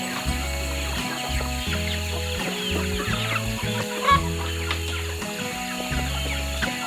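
Free-range chickens on a farm cluck steadily, many birds close by, under a continuous steady hum from some other sound source.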